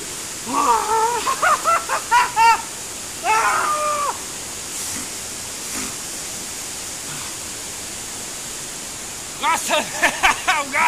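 Šum, the largest stream waterfall in Slovenia, roaring as a steady close rush of white noise, with a voice talking and breathing over it at intervals.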